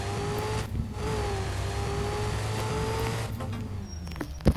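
A car engine in the Car Driving School 2017 game, set to sport mode, is floored toward 6000 RPM, a sustained loud mid-pitched drone with the engine note rising and holding steady.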